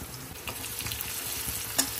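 Onions and curry leaves sizzle in hot oil, a soft steady crackle with a few sharper pops and a light stirring scrape.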